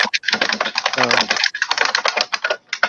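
Rapid clattering keystrokes on a computer keyboard rattle up close, with a voice speaking briefly over the typing midway.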